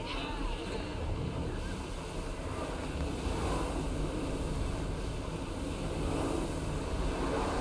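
A sailing ship at full speed in Assassin's Creed Odyssey, with a steady rush of wind and waves washing against the hull, continuous and moderately loud throughout.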